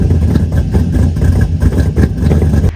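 A home-built Barra engine in a 2009 GTR Ute runs with a loud, choppy idle, its lumpy rough rhythm pulsing close and dominant throughout.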